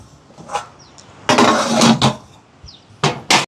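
A lid clanks down onto a big pot of chicken biryani, with several sharp metallic knocks and scrapes, the loudest burst in the middle and two quick clatters near the end.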